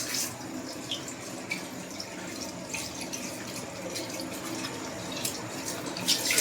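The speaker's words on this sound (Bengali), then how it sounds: "এই তো মাছগুলো আমি ধুচ্ছি" Fish being washed by hand under running water at a kitchen sink, a steady close tap stream with splashing and small drips continuing throughout, no talking.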